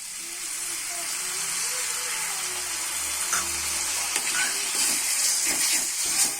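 Water poured into hot mushroom masala gravy with boiled potato in a Bengali home kitchen, giving a loud continuous hiss and steamy sizzle that swells throughout, with a faint voice underneath.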